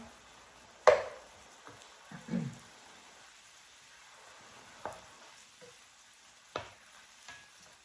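Shrimp and andouille sausage simmer in chicken broth in a pan on high heat, a soft steady bubbling under a few scattered spoon scrapes and stirring clinks.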